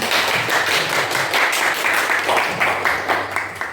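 Students in a classroom clap their hands together, a loud continuous round of applause with slightly uneven rhythm, close by and without talk, lasting a few seconds.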